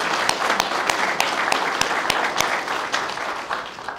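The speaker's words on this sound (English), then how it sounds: "Let's give ourselves a round of applause." A room of law enforcement staff and civilian employees at an awards ceremony applauds steadily, with dense overlapping clapping and a few sharper individual claps standing out, filling the whole stretch at a fairly loud level.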